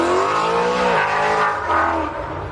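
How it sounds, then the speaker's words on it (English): A loud car passes in the background: sustained engine roar with rising and falling revving harmonics through the whole stretch, easing slightly toward the end, heard near a 2022 Phoenix USA vehicle fitted with a bike rack. "excuse the loud car in the background"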